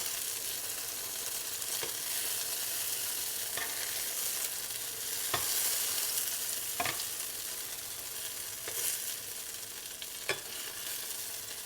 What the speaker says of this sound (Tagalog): magprito muna tayo ng ating pork